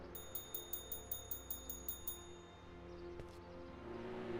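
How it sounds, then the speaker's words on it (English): A bell in the Back to the Future video game is struck repeatedly, giving about ten quick, evenly spaced metallic rings that stop abruptly, followed by quiet game ambience. "Let's hit the bell."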